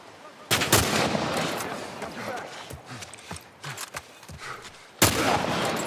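Revolver shots in The Last of Us Remake on Grounded difficulty: a few sharp, loud bangs at uneven gaps, mixed with smaller clatter and game noise.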